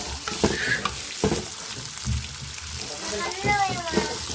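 Peanuts, dried chillies and seeds frying in a pan, a steady close sizzle broken by scraping stirs, with a voice faintly heard now and then.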